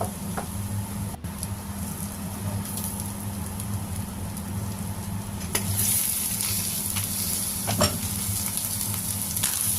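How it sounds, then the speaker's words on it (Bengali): Bitter gourd cooked with fish roe sizzles in a pan, a steady close crackle with occasional louder pops and stirring clicks, with no talking. "একটু ভাজবো।"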